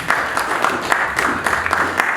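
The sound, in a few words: audience applause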